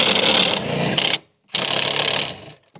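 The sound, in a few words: unscrewing seat bolts in Nissan Patrol Y62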